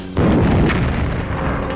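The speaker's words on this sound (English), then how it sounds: "We got an A-Wing just dropped on him and exploded" An A-Wing fighter crashes down and explodes in the game Mysteries of the Sith, a sudden loud boom followed by a sustained rumbling roar of fire and debris close by.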